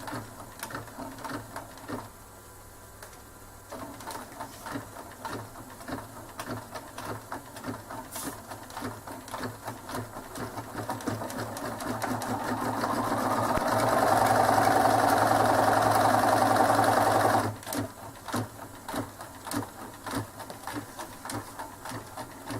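An embroidery machine stitching a new thread colour on a tissue holder: a steady mechanical whir and rattle that rises in pitch and loudness, then drops back to a lighter clattering hum, with no voices.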